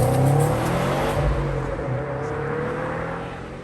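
Subaru WRX STI with a turbocharged EJ25 horizontally opposed boxer engine, revving with a steady, throaty drone that holds loud and close before easing slightly toward the end.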